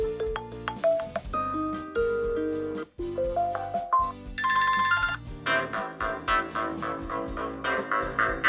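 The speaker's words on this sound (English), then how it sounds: "let's get into the phone ringtones and see how this sounds." An Alcatel Idol 4 smartphone plays its ringtones, a series of loud bright melodic tones and chimes shifting from one tune to the next, clear and up close with no talking.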